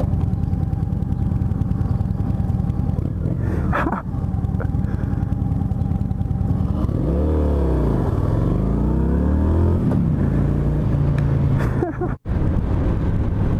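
Motorcycle revving up and accelerating hard in an impromptu street race, a rising and falling engine sweep near the middle over a steady idle hum, with brief talk and wind noise.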